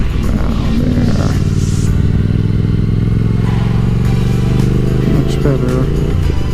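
A motorcycle downshifts and accelerates on a makeshift track through an elementary school car line, engine note climbing steadily and loud, close by, with voices heard over it.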